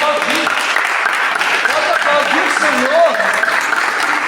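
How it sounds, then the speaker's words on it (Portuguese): A church congregation applauds during a sermon, steady dense clapping under a preacher's voice and other voices speaking and singing out. "Pode aplaudir"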